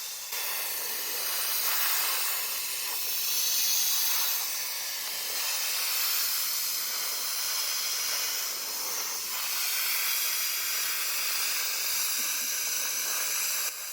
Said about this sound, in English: the Coanda Sandblaster is in a league of its own.